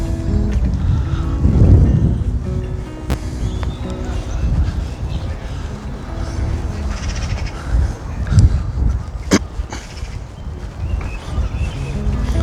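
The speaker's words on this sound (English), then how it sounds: "See all the crows in the trees over there." Crows caw a few times from trees in the distance in Richmond-upon-Thames, loud harsh calls over wind buffeting the microphone and some background murmur.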